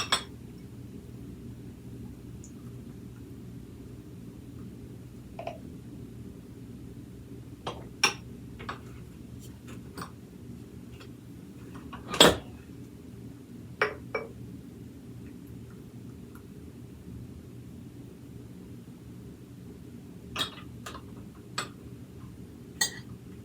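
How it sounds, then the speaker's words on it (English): Ceramic crème brûlée dishes clink sharply now and then as vanilla custard is poured into them, scattered single taps over a steady low hum, one louder knock near the middle. "And now we're going to fill our dishes."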